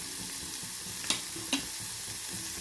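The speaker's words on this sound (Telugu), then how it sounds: "దీని అంతటినీ బాగా కలుపుతాము." Spices being stirred into ridge gourd frying in a pan, with a continuous soft sizzle and two sharp scraping clinks of the spoon against the pan, no voices.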